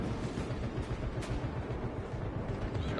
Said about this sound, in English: The last cannons have resumed firing.